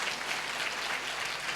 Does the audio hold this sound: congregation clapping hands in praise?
yes